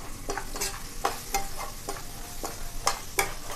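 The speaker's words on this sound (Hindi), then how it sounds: "कटे हुए हमारे दो बड़े प्याज थे वो हम इसमें डाल देंगे। इसको थोड़ा सा हम भूंजेंगे" Two large chopped onions sizzle in a hot pan, with a constant frying hiss broken by regular stirring scrapes roughly every half second, close and alone with no talk.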